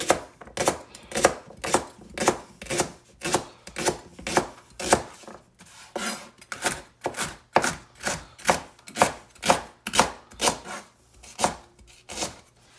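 Leeks from an organic garden are sliced with a knife on a board, giving a brisk, regular series of sharp close chops, roughly two per second, with a brief pause midway and no speech.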